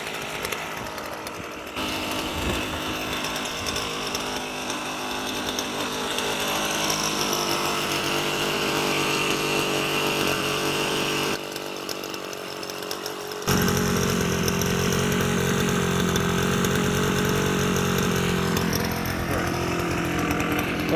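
A smoky two-stroke scooter engine running after a cold start in normal carburetor mode, a steady buzzing drone that holds for the whole stretch, briefly dipping before returning louder and rougher.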